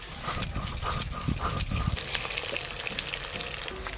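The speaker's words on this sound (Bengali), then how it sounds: "এই মাছগুলো ভাজা হয়ে গেল তুলে নেব" Fish, likely bata fish for a mustard-style oil curry, frying in a pan with a steady, loud, crackling sizzle and occasional sharper pops throughout, close up with no talking.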